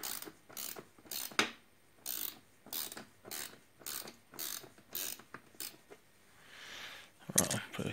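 A ratchet wrench loosens a bolt on a 2010 Honda CB1000R motorcycle, heard as a repeated rhythmic clicking of short strokes, close and fairly quiet.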